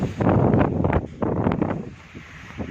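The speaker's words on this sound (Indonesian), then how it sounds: "Nah teman-teman tengok anginnya kencang, arah ke sana anginnya teman-teman ya." Strong coastal wind buffets a phone microphone as a ship docks, sending loud, rumbling gusts that surge and ease in rough pulses, with nobody speaking.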